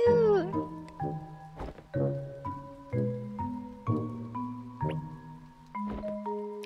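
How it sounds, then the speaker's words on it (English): A short cat meow from the video game Imposter Factory opens with a sliding, whiny cry. A run of plucked, evenly spaced game-music notes follows and dominates the rest. "So that was a cat."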